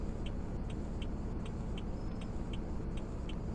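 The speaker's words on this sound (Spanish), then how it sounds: "Parece que avanza nuestro carro, ¿eh?" A car drives in the Roblox game Greenville, a steady low engine rumble with faint regular ticking like a turn signal, quiet and continuous throughout.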